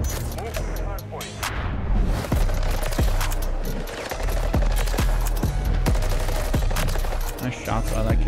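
Gunfire rattles through a Call of Duty MW3 ranked Hardpoint match, with repeated sharp shots and short bursts at close range over continuous game noise and what sounds like voices.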